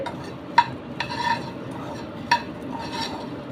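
Dry, crisp scraping and rustling of puffed rice being stirred in a hot wok, with a few sharper metallic scrapes standing out.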